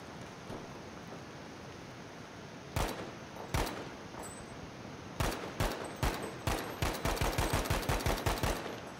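Gunfire in the shooter game Battlefield V during close-quarters combat: two isolated shots, then a rapid burst of sharp reports in quick succession over a low rumbling background.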